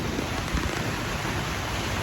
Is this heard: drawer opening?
no